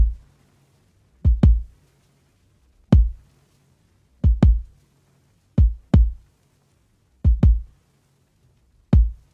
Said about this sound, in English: the first thing are the kick, the snare